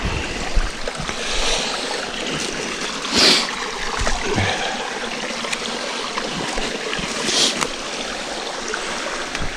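Steady rushing and trickling of a stream, a continuous broadband wash of water with a couple of brief louder splashes, no voices.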